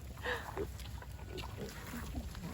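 Low snuffling grunts from a baby pig on a farm with goats nearby, a few soft oinks over steady outdoor background noise, with a person talking faintly at times.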